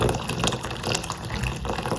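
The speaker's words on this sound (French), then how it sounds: "je vais rajouter à peu près 700 ml d'eau bien bouillante" Boiling water pours into hibiscus flowers for bissap, a continuous close splashing and gurgling stream of liquid with bubbly, uneven texture.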